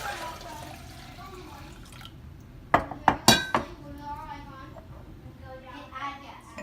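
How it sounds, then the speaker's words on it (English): Homemade yogurt being poured into jars in a kitchen, with faint liquid sounds under talk and a cluster of four sharp glass or utensil clinks in quick succession partway through. "you can just pour it into your jars"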